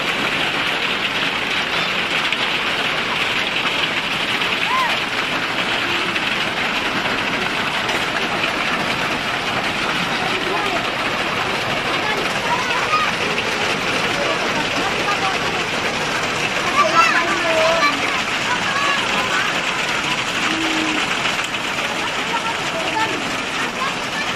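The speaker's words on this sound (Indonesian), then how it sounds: "hujan yang lebat" Heavy rain pours at Mahua Waterfall in Tambunan, a dense, steady hiss that stays loud and even for the whole stretch.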